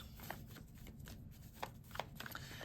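Tarot cards being shuffled by hand, a soft papery riffle with a few sharper flicks and taps scattered through a steady, fairly quiet rustle.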